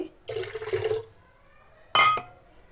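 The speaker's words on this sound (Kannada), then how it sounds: "ಒಂದು ಚೆಂಬು ಮತ್ತು ನೋಡಿ ಅರ್ಧ ಚೆಂಬು ನೀರು ಹಾಕಿದ್ದೀನಿ" Two short pours of water splashing into a metal pot of fish sambar, the first about a second long and the second briefer, close by.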